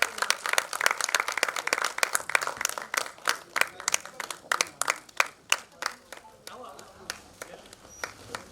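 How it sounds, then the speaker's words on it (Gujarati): Audience applause greeting a ceremonial lamp lighting at a Gujarati cultural event: scattered hand claps that fill the hall at first, then thin out into a few distinct, evenly spaced claps as the clapping winds down. "મિત્રો, આ દીપ પ્રાગટ્યને આપણે તાળીઓથી વધાવી લઈશું."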